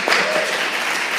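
An audience at an evening church music event applauds a band, a dense wash of clapping that stays steady and close throughout.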